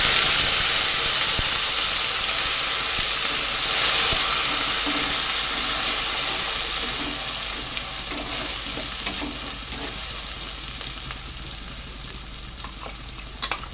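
Dried red chillies, bay leaves and cumin frying in hot mustard oil give off a loud, steady sizzle that slowly eases over time, with faint stirring clicks near the end.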